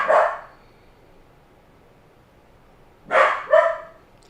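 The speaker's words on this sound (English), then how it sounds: "what are we barking at, guy?" A dog barks in a quiet room: one sharp bark, a long silence, then two more quick barks close together, fairly near and moderately loud.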